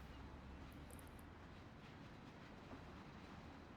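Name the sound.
train riding sound in Mafia video game mod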